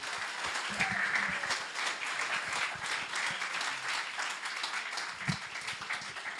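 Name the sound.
church congregation applause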